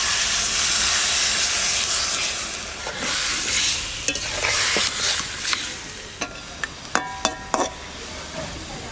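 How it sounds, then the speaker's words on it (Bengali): Water poured into a pan of frying spice paste for a home-style mixed fish curry, giving a loud continuous sizzle and steamy hiss with stirring scrapes and a few sharp clinks near the end. "মশলা থালায় একটু জল দিয়ে দিচ্ছি"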